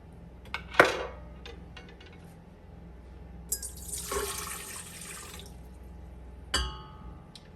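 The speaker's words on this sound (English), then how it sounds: "this is a warm water that I'm gonna add to my mixing bowl" Warm water is poured into a mixing bowl, first in a short splash and then in a longer, hissing pour. Clinks and bumps from handling the bowl are heard around the pour, and no one speaks.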